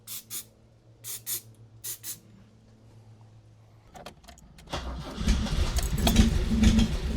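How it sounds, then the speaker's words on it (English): A wrecked car's engine cranks on starter fluid, with short bursts of cranking that then catch into a rough, loud sputtering run near the mic. No one talks. "So it turns over, which is huge, and it was trying to run."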